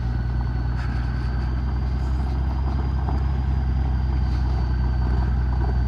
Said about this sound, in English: Side by side, an ATV.